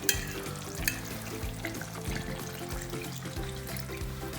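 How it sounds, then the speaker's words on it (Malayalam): Thin second coconut milk goes into a simmering Kuttanad-style duck curry and gets stirred, giving a steady close bubbling sizzle with repeated scraping strokes of the spoon. "2ാം പാൽ ഒഴിക്കാം."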